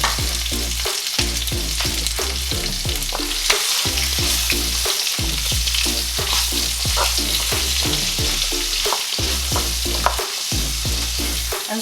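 Vegetables and garlic sizzling in a pan still coated with lamb juices, a loud continuous fry with regular scraping stirs throughout and no talking.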